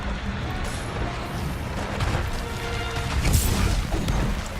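A Meowlotov firebomb explodes in Monster Hunter World, its crashing, booming bursts rising out of a dense, loud wash of game noise and swelling toward the end.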